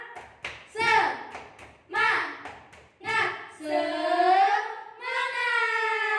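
Children at a Sunday school service clap a rhythmic spirit clap, with bursts of sharp hand claps in patterned groups mixed with loud chanting and shouting voices close by.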